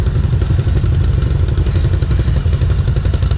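A Can-Am Renegade XMR 1000 ATV engine working hard while pulling with straps by a muddy river, a loud, close, steady rumbling drone with rhythmic clattering pulses, with no voices.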